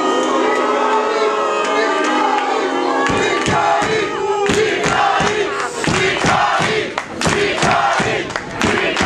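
Wrestling crowd at a live match roaring and cheering loudly, with bursts of clapping and rhythmic chanting swelling midway and continuing under a commentator's voice.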